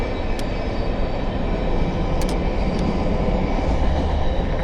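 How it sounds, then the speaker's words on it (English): A heavy freight train rumbles past close by in Bletchley, a loud continuous roar with rhythmic clatter and a few sharp metallic squeaks. "There's a close-up of the freight train."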